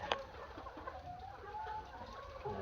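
Hy-Line pullet hens close at hand on a farm, clucking and murmuring softly in a continuous low chatter, with one sharper call near the start.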